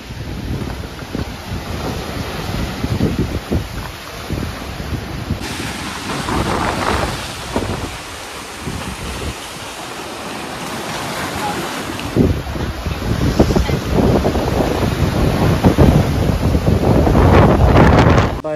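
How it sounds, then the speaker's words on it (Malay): Strong gusty wind buffets the microphone with a roar of sea surf beneath it in Koh Lipe, Thailand, the rumble swelling louder toward the end. "So sekarang ni dengan angin kuat dia."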